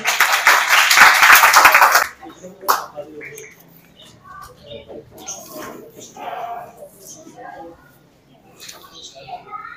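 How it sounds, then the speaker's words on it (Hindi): Loud applause from a crowd for about two seconds, then it stops and someone speaks over faint room noise. "आपकी भरपूर तालियों में"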